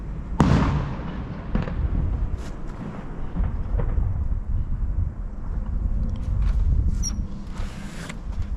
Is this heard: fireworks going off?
yes